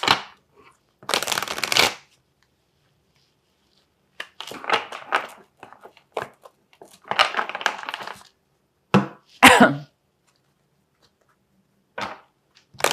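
Tarot cards are shuffled by hand in several separate bursts of riffling and sliding, close and crisp, with quiet pauses between them.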